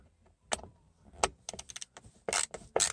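A standard number 2 Phillips screwdriver loosens a screw in an upholstery job, giving a few quiet, separate clicks and scrapes of metal on metal that come in short bursts, close by and without talk.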